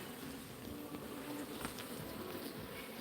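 Honey bees at an open hive full of brood and syrup give a steady, close buzzing drone with no pauses, faint wind mixed in.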